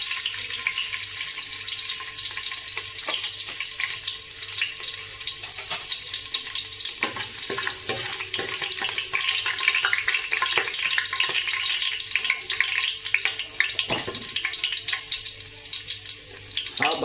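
Garlic frying in hot oil in a pan for a village-style chicken curry, a loud, steady crackling sizzle running throughout, close up with occasional stirring scrapes and no talk.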